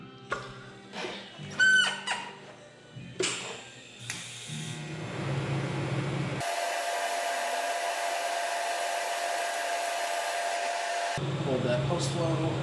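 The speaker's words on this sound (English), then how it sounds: "let's continue welding" Mild steel is MIG welded after a few sharp metallic clanks and taps; then a steady, even welding hiss runs for about five seconds before cutting off, followed by faint handling noises.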